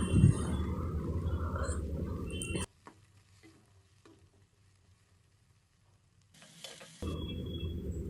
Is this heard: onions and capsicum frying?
yes